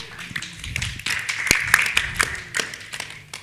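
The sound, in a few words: audience applause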